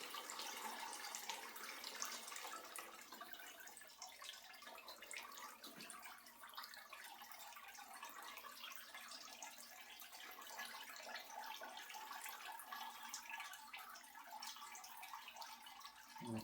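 Water trickles and drains steadily out of a lifted filter bag of melted beeswax onto a tarp, a continuous soft pouring and dripping that runs without pause.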